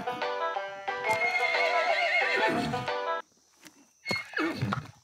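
Cartoon horses in a stable giving long, loud, quavering whinnies, one drawn-out neigh followed after a pause by a shorter second one, with faint hoof clatter.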